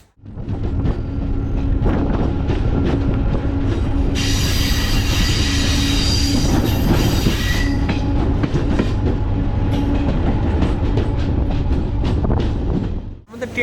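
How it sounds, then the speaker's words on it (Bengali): The Malda Court to Siliguri DEMU passenger train (75719) pulls into Talkhola station with heavy, loud rolling rumble and wheel clatter. A shrill wheel squeal rises midway and holds for several seconds before fading back into the steady rumble. "আমাদের ট্রেনটি এখন বর্তমানে এসে পৌঁছলো তালখোলা স্টেশন।"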